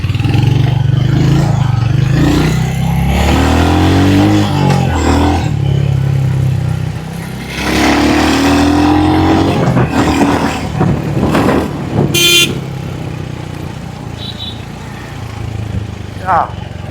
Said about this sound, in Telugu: ఇప్పుడు మనం సిటీ ట్రాఫిక్ కండిషన్లో రైడ్ చేసి ఇన్స్టెంట్ పికప్ ఎలా ఉందో చూద్దాం దీన్ని